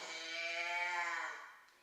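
Cow mooing in a children's song setting: one drawn-out, nasal bleating call with rich harmonics, loud and close, fading toward the end; it sounds more like a sheep or goat bleat than a deep moo.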